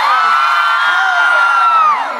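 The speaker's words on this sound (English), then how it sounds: "Gonna get a cheer for loneliness." A packed crowd at a live concert at U Street Music Hall in Washington, D.C. cheers and screams loudly in one sustained roar with high-pitched whoops, fading slightly at the end.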